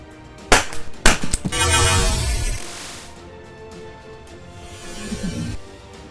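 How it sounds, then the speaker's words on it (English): An HDP50 gas pistol fires a 50 caliber nylon ball through a cucumber, two sharp loud cracks a half second apart, then a burst of hissing gas and a fading rattle. No one speaks. "we're going to see what happens to the cucumber when you put a shot through it"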